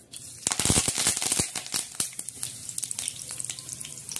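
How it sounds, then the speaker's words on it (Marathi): Curry leaves dropped into hot oil in a kadhai burst into a loud crackling sizzle that quickly settles into lighter, intermittent popping, close up with no voices. "आता सर्वात प्रथम आपण काय टाकणार आहोत कढईत, कढीपत्ता टाकणार आहोत"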